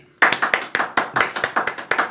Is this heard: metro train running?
no